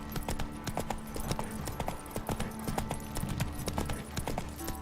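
Roach, a horse in The Witcher 3, trots along with a steady clip-clop of hooves on hard ground, close and prominent over low ambient game sound.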